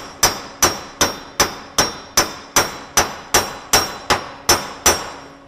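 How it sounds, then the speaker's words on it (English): Hand hammer peening a fresh weld on tool steel, twelve sharp metallic strikes in an even rhythm, each ringing briefly, close and loud with no talking. "The reason I'm peening this is to stress relieve it."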